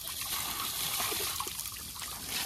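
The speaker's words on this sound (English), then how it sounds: "Here, let me get a little water on her." Water trickles and splashes as it is poured onto a recovering dog after surgery, a soft continuous pour with small splatters, fairly close and without speech.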